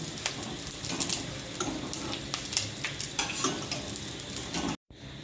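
Pieces of edible gum (gond) frying in hot ghee for Gujarati sukhdi, a steady close sizzle and crackle with occasional stirring scrapes that cuts off briefly near the end.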